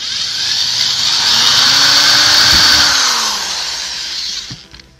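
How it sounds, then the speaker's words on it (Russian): An electric drill or screwdriver bores a hole in the centre of a video cassette tape reel, a close, loud whirring whine that rises and holds for a few seconds, then winds down and stops. "Давайте воспользуемся дрелью или шуруповертом и просверлим отверстие в центре"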